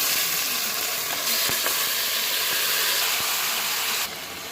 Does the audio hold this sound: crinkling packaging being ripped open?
no